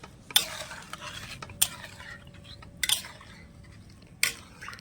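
A date-palm jaggery mixture for gujiya pitha is stirred and cooked in a pan. Four sharp, close scrapes of a spoon stand out, spaced about a second apart over a low, quiet background, with no talking.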